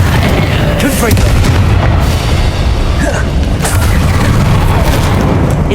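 Confringo blasting spell from the Hogwarts Legacy video game, a dense roaring explosion with booming low rumble and crackling bursts that stays loud and continuous throughout.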